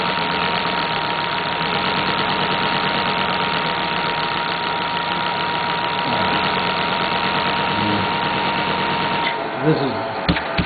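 A player piano air motor runs on about 20 inches of vacuum, giving a continuous rhythmic mechanical chugging and whirring at an even pace. Near the end come a few louder knocks and shifts.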